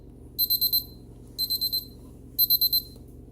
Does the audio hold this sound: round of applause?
no